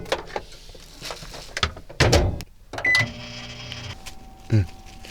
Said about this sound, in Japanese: 残りは電子レンジで解凍していきます